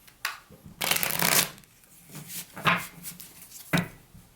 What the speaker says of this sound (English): I'm going to shuffle this one more time.